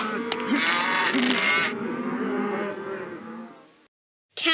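Cattle lowing on a ranch, several moos rising and falling over a steady background, with a brief loud burst of another sound at the very end.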